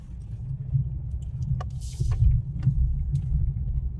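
A car creeps along slowly in first gear during a driving lesson, giving a low steady engine rumble with a faint jingle of keys and a few small knocks inside the cabin.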